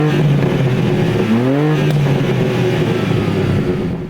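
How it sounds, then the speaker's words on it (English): A BMW M2's engine revs hard through a loud exhaust, a sustained close-up roar with rising and falling pitch sweeps as the throttle is blipped, steady and dominant throughout. "The exhaust is loud, and this engine gives the car kind of like a brawler attitude when it comes to the power."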